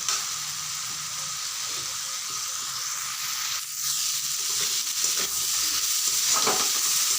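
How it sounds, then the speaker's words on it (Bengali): Garlic masala for a potato and dried loitta fish curry is stir-fried hard in a pan, giving a continuous close sizzle broken by spatula scrapes and stirring sounds, with no talking. "এখন ভালো করে কষাতে হবে, নাহলে রসুনের কাঁচা গন্ধ থেকে যাবে।"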